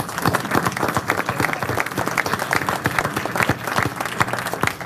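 An audience at an energy industry forum in Boston claps in a quick round of applause, dense overlapping hand claps heard close and steady with no talking over them.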